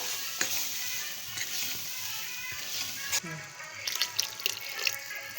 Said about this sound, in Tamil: இப்போ இதில் கன்சிஸ்டன்சிக்கு ஏற்றவாறு நம்ம தண்ணியும் சேர்த்துருவோம்